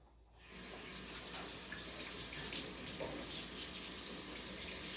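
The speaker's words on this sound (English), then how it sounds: "wash my hands, guys" Tap water runs steadily into a sink as egg is washed off hands, a continuous broadband splashing rush that starts within the first half second and holds at an even level to the end, with no talk over it.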